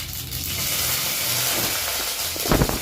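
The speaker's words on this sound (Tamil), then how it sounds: "காஞ்ச மிளகா, கருவேப்பிலை போட்டு தாளிச்சுப்போம்" Loud, steady sizzling and hissing of mustard seeds, dried red chillies and curry leaves frying in hot oil, with a brief burst of louder crackle near the end.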